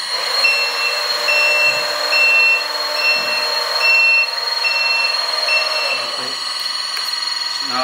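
A LESU 1/16 scale Aoue-AT60H 6x6 RC hydraulic articulated truck backs up, its reversing alarm beeping in a regular close rhythm over a steady motor whine, with brief clunks near the end.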